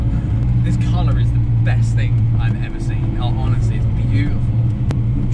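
A TVR Sagaris sports car cruises with a deep steady engine drone and road rumble from inside the cabin, while someone talks over it.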